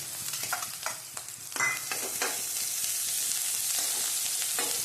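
Fresh ginger and chillies, red and two green, go into a hot pan for dosa filling and are stirred, with soft sizzling frying under repeated scraping strokes of a spoon, close and moderately loud, with no voices.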